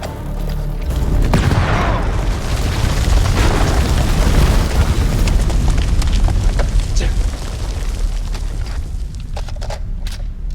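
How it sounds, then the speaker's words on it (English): Grenade blast in House of Ashes, a heavy booming explosion followed by a long rumbling roar and debris crackle, loud and close, fading slowly toward the end. "Grenade!"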